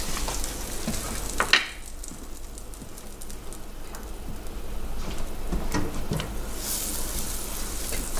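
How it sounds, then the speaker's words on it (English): Butter melts and sizzles in a pan for garlic steamed mussels, a steady, soft frying hiss with a few light clinks near the start. "I'm gonna add in about 1/3 of this butter stick here. Okay, now that's cooking up."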